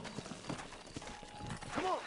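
A horse in the video game Red Dead Redemption clip-clops in a steady rhythm of hoofbeats at moderate distance, ending in a short whinny, while a voice talks faintly underneath.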